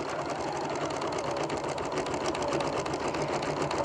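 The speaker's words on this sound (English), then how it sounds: "sew 2 or 3 more stitches, clip the thread, and let it sew" An embroidery sewing machine stitches a design onto fabric with a fast, even, continuous mechanical whirr throughout, close and steady with no speech.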